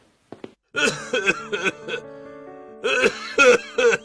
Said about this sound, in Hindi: उन्हें बहुत तेज खांसी आ रही है